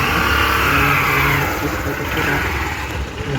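A trial motorcycle engine revs steadily under light throttle and clutch as the rider pulls off from a stop on a riding-test course, a loud, close, continuous mid-pitched drone with slight rises and dips.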